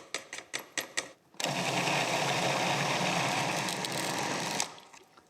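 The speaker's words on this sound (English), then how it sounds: "I strain off the stock and puree the vegetables." A few quick clicks precede a blender pureeing cooked celeriac soup vegetables, whirring loudly and steadily for about three seconds before winding down.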